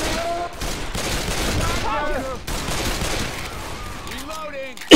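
Magnum pistol shots in the video game Left 4 Dead, a few reports buried in a busy mix of game noise and overlapping voices, with a sharp loud crack right at the end.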